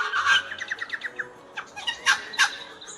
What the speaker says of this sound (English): They make a range of bizarre calls, but their standard one is a guttural kind of sound.